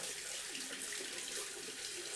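Tap water runs steadily from a faucet into a sink during a wet shave with a brass safety razor, a continuous hiss heard alone at close range while the water warms.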